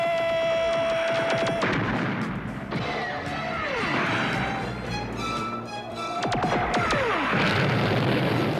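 Artillery barrage in a G.I. Joe cartoon: loud repeated booms and crashing explosions, with whistling shells falling in descending tones, dense and continuous over background score.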